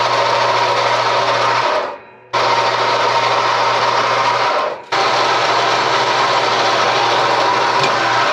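Metal pieces cut from scrap stock for a homemade press brake, a loud continuous grinding whine that stops briefly twice before resuming, with no voices.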